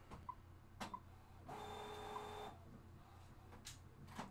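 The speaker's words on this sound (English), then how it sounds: "Sorry, really noisy printer." Noisy printer running in a quiet room, a few sharp mechanical clicks and ticks around a one-second burst of whirring feed noise, fairly faint.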